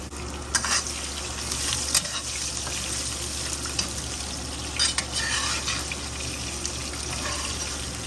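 Shrimp stir-frying in a new wok, a steady close sizzle with intermittent scraping and clinking of a spatula against the metal.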